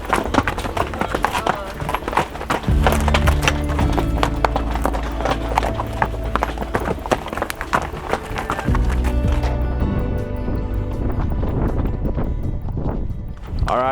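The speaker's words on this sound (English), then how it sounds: "I got this steed here, Quiver, that's doing all the work for me." A horse carrying a rider up a high mountain trail in Nevada's Ruby Mountains, its hooves clip-clopping in a steady, close, rhythmic plod over wind and rustling gear.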